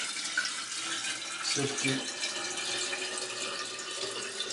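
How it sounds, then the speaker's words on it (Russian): Boiled, cooled water poured steadily into a container for kvass made from celandine, a continuous close rushing flow with a brief word spoken partway through. "теперь будем выливать воду"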